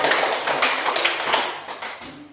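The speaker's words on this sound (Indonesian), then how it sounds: "Tepuk tangan untuk Irma dan kawan-kawan" A classroom of students applauds a group of classmates at the front, dense clapping that stays steady and close for a couple of seconds, then thins near the end.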